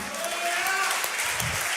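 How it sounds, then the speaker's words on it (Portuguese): A church congregation applauds loudly during a worship service, a dense and steady wash of clapping that holds at full strength throughout, with faint voices mixed in. "Ah, meu Deus, aplaude forte."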